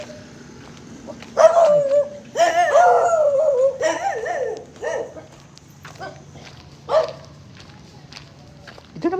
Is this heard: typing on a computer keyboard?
no